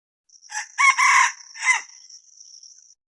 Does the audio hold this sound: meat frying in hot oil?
no